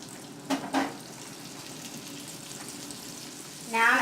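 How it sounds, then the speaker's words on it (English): A couple of tablespoons of butter sizzle steadily in an already hot pan, a constant close frying hiss with a few clattering touches early and a louder burst of crackle at the end. "My pan's already hot. I'm adding a couple of tablespoons of butter."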